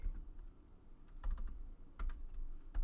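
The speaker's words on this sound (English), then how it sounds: "I'm going to type in Quinn" Computer keyboard typing at a craft desk, several quick bursts of close, crisp keystrokes separated by short pauses, with no talking.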